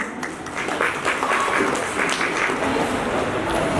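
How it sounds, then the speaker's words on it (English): Audience applause at an annual dance function held by a dance and fitness studio, a steady, dense roll of clapping that runs through the whole stretch with faint voices mixed beneath. "let's have a huge round of applause for Prachi Fitness and Studio and Mrs. Prachi."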